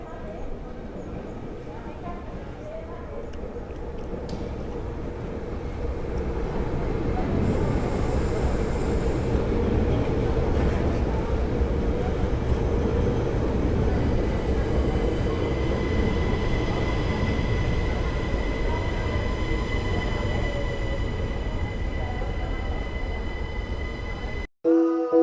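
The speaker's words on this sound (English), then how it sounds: "Now this is my last stop. I'm not changing train again." A passenger train rides through Belgium, with a steady rumble of wheels and carriage that swells and holds, plus faint squeals and clatter, heard from inside the car.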